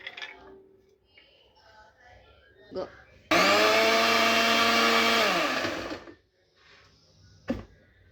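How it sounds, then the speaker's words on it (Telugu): A kitchen mixer grinder grinding onions whirs loudly for about three seconds, then winds down, with brief clatter and quiet sounds before and after. "మిక్సీ గిన్నెలు వేసుకొని మిక్సీ చేసుకోవాలి."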